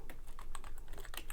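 Quick, close keystrokes on a computer keyboard while a search term is entered in a music sample browser, a rapid uneven patter of clicks with no voices.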